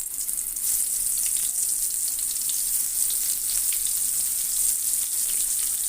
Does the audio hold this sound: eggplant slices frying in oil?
yes